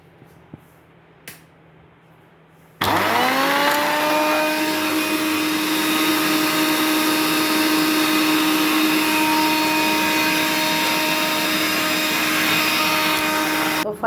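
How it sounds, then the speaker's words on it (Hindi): A mixer grinder blends chunks of watermelon, rind included, with black salt. After a few quiet seconds the motor starts abruptly and holds a loud, steady whir to the end, with a strong tonal hum and a rough grinding texture. "अब फैमिली इसको कर लेती हूँ बंद और मिक्सी चला देती हूँ।"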